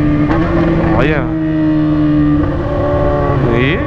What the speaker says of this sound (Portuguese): Vou acelerar essa motoca aqui.